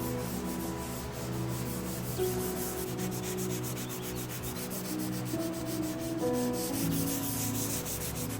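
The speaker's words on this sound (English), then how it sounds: "then 180 grit with a hand sanding block" Steady back-and-forth rasp of a 180-grit hand sanding block working over thin walnut and walnut burl veneer on an antique 1920s Art Deco buffet, continuous and close with no talk.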